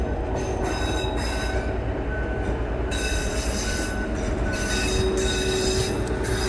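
Train wheels screeching against the rails on a Canadian National line near Stillwater Creek Bridge, a sustained, loud metallic squeal over the rumble of rolling railcars, with sharp high tones flaring and fading throughout.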